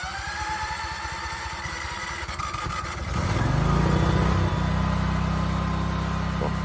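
Portable generator with a choke, pull-started during a power outage: an engine fires near the midpoint and settles into a loud, steady running drone that continues to the end.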